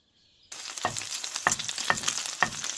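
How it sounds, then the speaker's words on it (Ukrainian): Oil suddenly bursts into a loud, crackling sizzle as spoon-formed bread patties hit the hot pan, with scraping and clinking from a utensil over the frying. "смажимо котлетки по одній-дві хвилини з кожної сторони"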